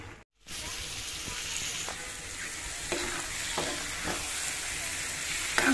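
Pumpkin, shrimp and ridge gourd fry in a pan with a steady, close sizzle, broken by scattered scraping stir strokes throughout.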